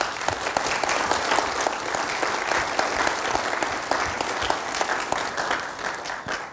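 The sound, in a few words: conference audience applause for organizers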